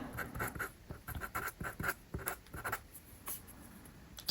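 Red pen writing on a classroom board during a fifth-grade maths lesson: a quick run of short, close scratchy strokes with small pauses between them, and no voices.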